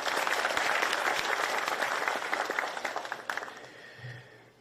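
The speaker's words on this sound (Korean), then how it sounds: "박수 한번 부탁드립니다." Sustained applause from a gathering of farmers and cooperative members at a rural seedling nursery meeting, dense and steady at first, then thinning into scattered claps before fading out.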